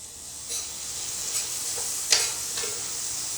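Chopped vegetables fry in butter in a pan, giving a steady close sizzle with a few soft clicks and scrapes of stirring over it, and no voices.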